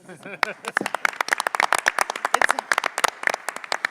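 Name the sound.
audience applause at a presentation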